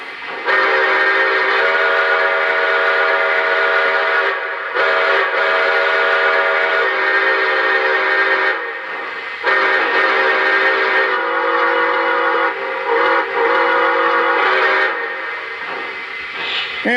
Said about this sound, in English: All right, so here's the whistle.